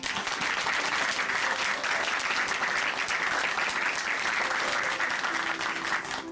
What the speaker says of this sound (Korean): 다시 한번 유윤진 자매님께 감사의 박수 보내드릴게요.